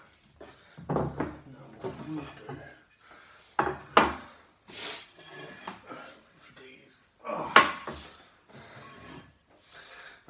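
Wooden rocking chair joints being knocked together during reassembly, giving several sharp hollow knocks scattered among softer scraping and handling sounds, close up in a workshop.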